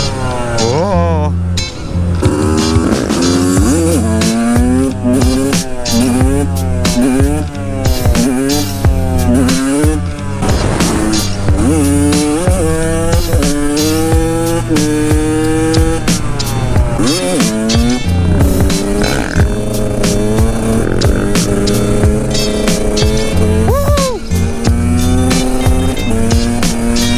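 A road-legal two-stroke 125cc motorcycle is lofted into a wheelie, its engine revving hard in repeated rising and falling sweeps, loud and continuous from close by for the whole stretch.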